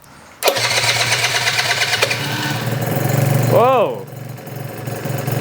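A rebuilt Yamaha BWS 50 scooter with a Stage6 setup kicks into life and settles into a steady, buzzy two-stroke idle, loud and close, while a voice calls out a short exclamation near the end.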